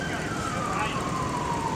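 A police car siren wails ahead of a main group of bicycle riders heading out on a Thursday morning tour ride, a steady falling tone over constant outdoor background noise.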